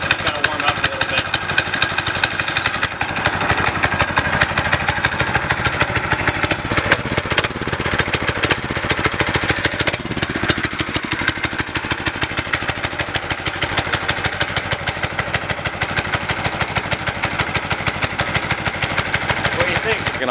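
Homemade go-kart engine idling to warm up after starting, a steady, close, rapid putter that keeps an even beat throughout, with people talking over it.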